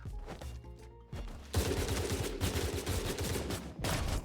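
Rapid gunfire from the shooter game Hypershot erupts after a quiet opening and continues as a loud, dense barrage of overlapping shots, with no voices.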